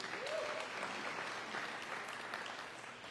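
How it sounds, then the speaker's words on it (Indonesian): Church congregation clapping at a Sunday service, a fairly quiet, sustained round of applause that slowly fades toward the end. "Kasih tepuk tangan."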